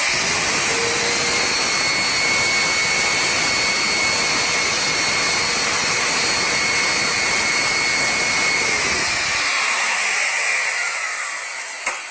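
An Arnica Damla water-filter vacuum cleaner with a rotating brush head runs with a loud, steady whine and rushing airflow for most of the time, then shuts off and falls quiet near the end.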